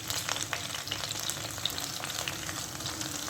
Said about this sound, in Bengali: আমি এখন এগুলো ভেজে দেবো।